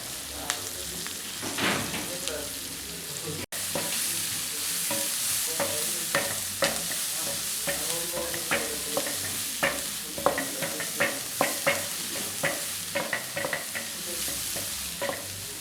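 Onions, celery and garlic frying in oil for a chicken in mushroom sauce dish, a steady low sizzle punctuated by repeated sharp stirring clicks and scrapes of a utensil against the pan.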